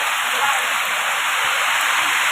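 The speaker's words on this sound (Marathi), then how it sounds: "पाऊस किती जोरात आहे आणि किती दमान आहे" Heavy rain pours down steadily near a cattle shed in a rural farm setting, a dense, loud, continuous hiss of water drumming on a surface with no break.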